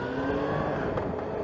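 A motorbike engine revs and accelerates close by on the A2 road in Kent, UK, a loud, steady roar with rising pitch and road noise, no voices.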